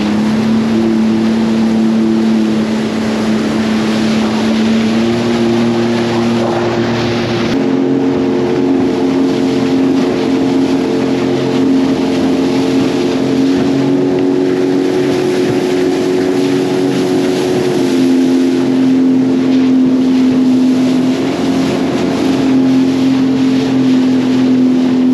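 Sea-Doo personal watercraft engine droning steadily on a lake in a cold northeasterly wind, its pitch shifting slightly with the throttle while wind buffets the microphone throughout.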